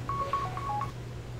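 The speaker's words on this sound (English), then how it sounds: "my phone's ringing" Mobile phone giving a short run of electronic beeping tones, four or five quick steady pips close by over a low hum, with no voices.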